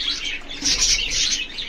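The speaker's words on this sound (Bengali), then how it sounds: "পাখিগুলো আস্তে আস্তে সব নেমে চলে আসবে গোসলের জন্য" Small birds in a home aviary chirping and twittering in quick overlapping bursts, with a soft flutter of wings, close and lively, no speech.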